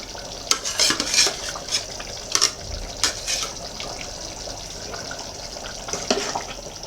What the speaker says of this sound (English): So I'll put in the rest of the onions